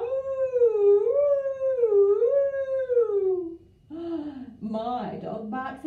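A person imitates a dog howling at fire engines with a long, wavering, rising and falling vocal howl, followed by a short break and a few quieter whimpering and chuckling sounds, all close and loud.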